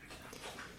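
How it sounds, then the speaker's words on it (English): A dog laps water at close range in a brief burst of wet, breathy, soft sounds, with no talking. "My dog is drinking, sorry for the noise."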